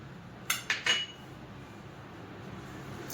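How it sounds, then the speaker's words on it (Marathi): A spoon clinks three quick times against a metal vessel while homemade pickle spice masala is mixed, then goes quiet except for a faint final tap. "आता हे मिक्स करून घ्यायचंय चांगलं"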